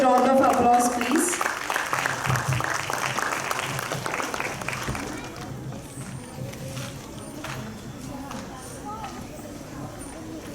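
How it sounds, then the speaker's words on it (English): Audience applause at a foundation's launch event in Hyderabad, a loud, dense burst of clapping for the first few seconds that thins and fades under murmuring and room noise. "Let's invite him with a good round of applause, please."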